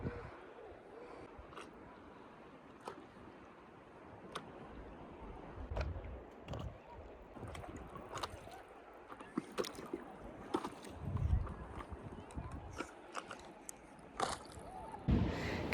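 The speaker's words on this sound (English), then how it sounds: "I came out on the boat again this afternoon" A small boat moves across choppy water on a lake under an open sky, with a steady low wash and wind rumble broken by irregular slaps and splashes against the hull that grow louder and busier toward the end.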